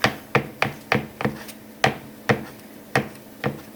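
A knife chops food for Japanese-style mashed potato croquettes (korokke): about ten sharp, close board strikes in an uneven rhythm, with no talking.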